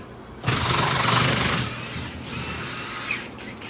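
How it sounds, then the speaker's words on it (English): A power tool drives a 15 mm socket on S&B cab mount bolts of a 6.7 truck, a loud continuous whirring burst of about a second followed by a quieter lingering rattle, with no talk. "Brian, what size socket are you using there? 15 millimeter"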